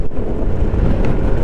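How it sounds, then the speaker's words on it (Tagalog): Strong wind buffets the microphone at Patapat Bridge in Pagudpud, Ilocos Norte, a loud, continuous low roar with no other sound standing out. "Ang lakas ng hangin, sayang wala tayong drone shot."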